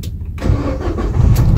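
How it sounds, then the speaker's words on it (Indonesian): A Nissan car engine cranks and starts after a brief quiet moment, then settles into a loud, close running rumble. "Kita coba starter ya Om."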